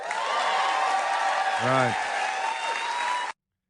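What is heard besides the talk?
studio audience cheering and clapping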